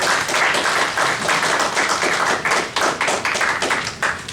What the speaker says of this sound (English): So let's start a clap, I think, for everyone,